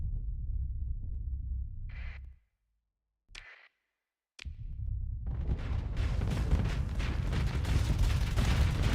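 An enemy ship strafing with gunfire in the space combat game Starsector: a few isolated sharp impacts in near silence, then a dense, loud stream of rapid shots and rumbling through to the end.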